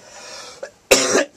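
Coughing from a man fighting a cold, heard while playing Jeopardy on PS2: a faint cough, then a loud, close, rasping fit of several coughs and one more sharp cough at the end.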